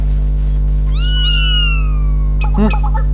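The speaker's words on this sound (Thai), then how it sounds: "เสียงแมวร้องเหรอ" A loud cat meows twice in the video game Blue Archive, a long drawn-out falling cry followed by a shorter one, over a constant low electronic hum.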